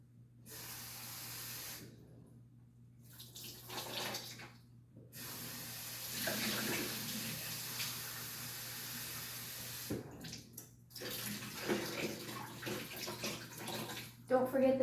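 Fresh blueberries being rinsed under running kitchen tap water, a hissing splashing stream in long bursts broken by short pauses, close and fairly loud.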